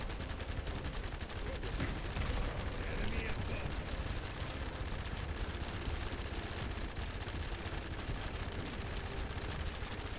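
Rapid gunfire from players shooting the Gluttony colossus boss in The First Descendant sounds as a dense, continuous rattle of shots, fairly faint and flat under other game noise.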